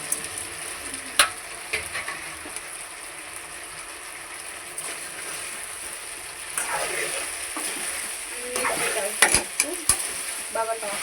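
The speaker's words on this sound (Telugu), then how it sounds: "ఇలాగ ఇందాక వేయించుకుని వేసుకుని బాగా మిక్స్ చేసుకోవాలి." Fried veg manchurian stirred and tossed in a pan, a continuous sizzle with scraping and clattering from the spoon that grows busier toward the end, close up.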